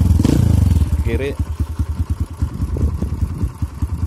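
Motorcycle engine idling close by, its revs rising on their own as the handlebar is turned, with a steady throbbing pulse and some clatter under a man's speech.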